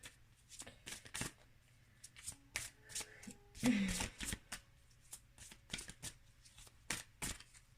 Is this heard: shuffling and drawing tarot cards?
yes